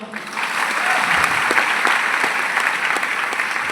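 An audience claps together in a hall, a dense sustained burst of applause holding steady for several seconds, loud and close, with a voice faintly beneath it.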